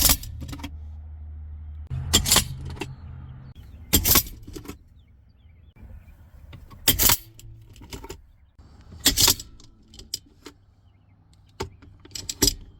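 A Kwick Strike gun box mounted in a GMC truck opens and closes, giving a series of sharp mechanical clicks and clacks with quiet gaps between them, close and fairly loud.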